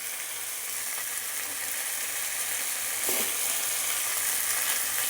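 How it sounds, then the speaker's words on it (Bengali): Steamed young jackfruit and potatoes stir-fried in a pan, with a soft, continuous sizzle and a brief stirring scrape partway through, heard alone without talk. "এবার এগুলোকে আমি এর সাথে ভালো করে কষিয়ে নিচ্ছি।"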